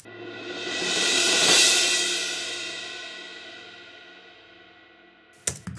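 An uncompressed cymbal swell builds to a bright shimmering peak, then decays freely into a fading ring, followed by a brief sharp knock at the very end.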